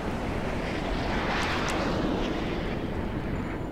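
Jet aircraft engine in Grand Theft Auto V, a loud, steady broadband roar with a rushing, wind-like character that holds constant throughout, with no one talking.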